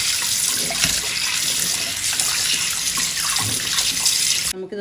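Raw fish being rinsed and cleaned under a running tap in a kitchen, a steady, continuous gush of water splashing close by for the whole stretch, with no voices, cutting off just before the end.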